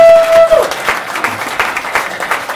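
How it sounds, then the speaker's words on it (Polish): A television studio audience claps for Czarek Ponteski, a steady patter of applause that follows a brief tone and continues through to the end. "Dajcie mu wielkie brawa, Czarek Ponteski!"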